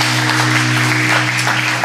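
A church congregation at a Sunday gathering breaks into sustained, dense applause, loud and close, with many hands clapping at once and no pauses or voices rising above it.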